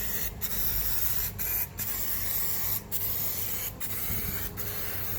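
Aerosol spray cans spray in long hissing bursts on a Ford 250 Crossflow engine, broken by several brief pauses between sprays, close by.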